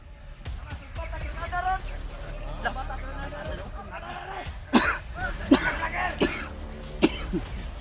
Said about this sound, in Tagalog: Inuubo na ako dito, tol.